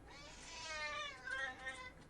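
A cat gives a drawn-out, wavering meow, fairly faint and rising then falling over about a second, against a steady background hiss.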